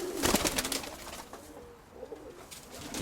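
Soft cooing from pigeons in a loft carries through a moderate rustling background, with several low warbling calls, a brief lull, then more activity.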